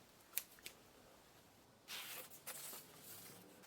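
Scissors snip a couple of times, then make a longer slicing cut through a thick Ugg boot sole, quiet and close, with no voices.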